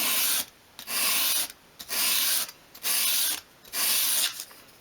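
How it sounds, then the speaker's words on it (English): Sandpaper laid flat on a work surface sands a 45-degree bevel along the edge of a 1/12 scale dolls house roof piece, making five even, rhythmic rasping sweeps separated by short pauses. "So with your sandpaper flat on your work surface, hold it at a 45-degree angle and just sweep it towards you."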